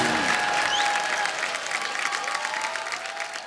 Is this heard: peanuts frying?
no